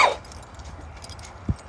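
Dogs bark faintly in the distance along a forest walk, a few brief, far-off yelps over quiet outdoor background with a soft thump near the end.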